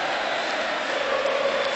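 Basketball fans singing in the arena at a 1998 Cibona versus Partizan game, a dense, steady roar of massed voices filling the space.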